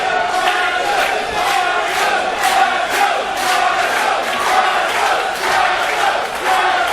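Loud wrestling crowd at Jonathan Gresham versus Jaxon Argos match, roaring and chanting continuously with rhythmic bursts of shouts and claps, dense and sustained throughout, no clear speech.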